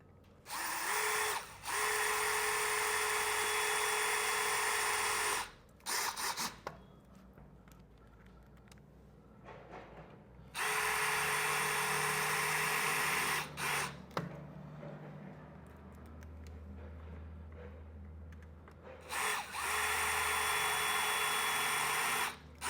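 A cordless drill drives screws through the top gutter flange of a greenhouse roof in three loud, sustained whirring bursts separated by quiet pauses with faint handling clicks.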